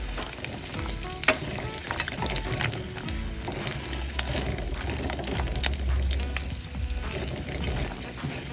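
Garlic sautés in a hot frying pan for a Tamil vazhakkai kola urundai, a steady close sizzle and crackle of oil with occasional scraping stirs throughout, no talking.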